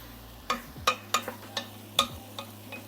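Butternut squash stirred with herb salt in a pot for vegetable chowder: a soft, close series of seven or eight separate scrapes and knocks of a spoon against the pot, quiet and with no talking.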